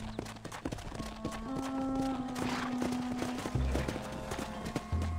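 Horses in Red Dead Redemption trotting and clattering along, their hooves clip-clopping in a busy uneven rhythm over a droning engine-like hum, with a few low snorts toward the end.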